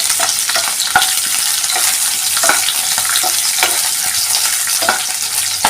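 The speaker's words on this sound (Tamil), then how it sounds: "வெங்காயம் பாருங்கள் இப்படி வதங்கிட்டு இருக்குது." Large onion pieces roasting in a pan with garlic for South Indian home-style Gobi Manchurian, a loud continuous sizzle with regular sharp crackles and spatula taps throughout.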